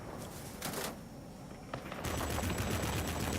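Machine gun fire in the IL-2 flight simulator video game, heard as quiet, rapid rattling bursts: a short burst early, a longer one near the start, then sustained continuous firing at the end.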